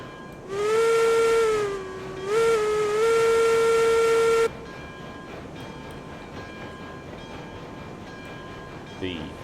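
A 2-8-0 Cooke Consolidation steam locomotive in the game RailRoads Online pulls away under two long, loud steam whistle blasts, the first wavering then a second sustained one, then a steady low chuff and rumble of rolling cars continues.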